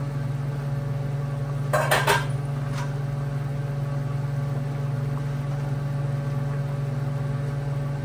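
A cooking pot lid lifts with a brief metallic clatter of a few quick clinks, heard over a steady electrical hum in a home kitchen while beef stew simmers.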